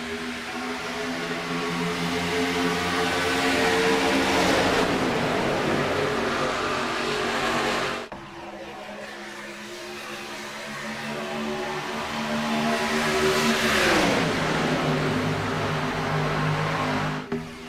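NASCAR race cars racing at Talladega, a dense, loud roar of engines that swells as the pack passes, drops briefly, then builds again into another close, full-throttle pass.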